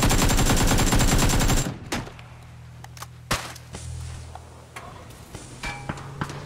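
Gunfire in a PUBG pro scrim match: a dense, loud burst of rapid automatic fire for the first second and a half, then scattered single shots and distant pops over a low ambient hum.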